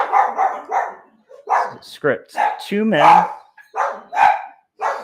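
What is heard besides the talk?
dogs barking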